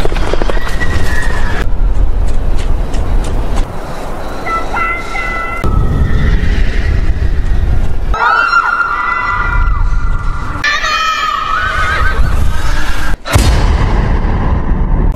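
A horse screams and whinnies repeatedly over loud, chaotic background noise, with shrill cries rising and falling and a sharp bang near the end.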